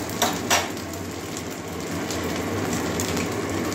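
Steady sizzle of food frying in a pan while making a Maggi noodle paratha, with a couple of faint utensil clinks at the start followed by a continuous soft crackle.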